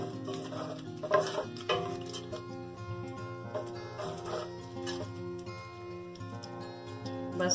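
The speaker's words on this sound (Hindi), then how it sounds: "तो इसको मैंने थोड़ा सा फ्राई कर लेना है इस ऑयल में, इस इन होल स्पाइसेस को।" Whole spices and sliced dates frying in oil for a chicken korma, a soft bubbling sizzle under clinks and stirring taps of a utensil against the pot, with no talk.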